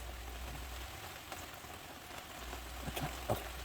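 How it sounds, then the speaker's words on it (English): Rain falls outside in a faint, steady patter, with a few scattered drips and light taps over a low background hum. "Would you believe it's raining right now?"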